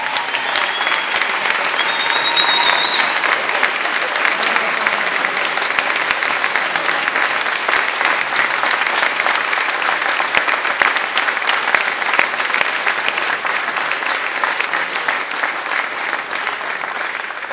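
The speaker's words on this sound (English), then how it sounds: "Please give them another round of applause." An audience claps loudly and steadily for barbershop quartet competitors at a 2016 quartet final, a dense, sustained roar of applause with no talking.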